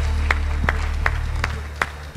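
At a game show season final, someone claps for the contestants: about five slow, evenly spaced claps ring out clearly over a steady low hum.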